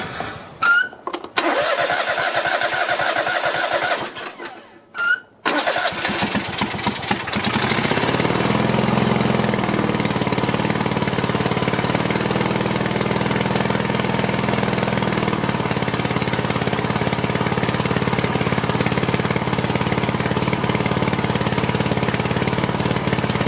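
A Cub Cadet lawn tractor engine that burns oil and runs rough is cranked, catches and then runs on a single cylinder, a loud steady drone close up after a couple of brief starting attempts.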